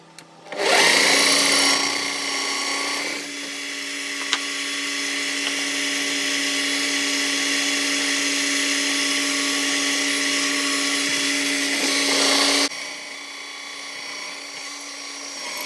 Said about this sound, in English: Right, next step, now I've got them sanded to the point where I'm happy with, is to drill their eyes out.